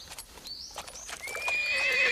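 A horse neighs in a long, rising whinny that builds to a loud, shrill peak, with hoof clip-clops and scattered clatter before it, fairly close.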